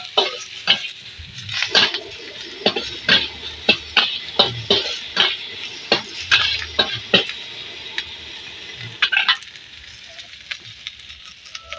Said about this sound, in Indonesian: Mie goreng.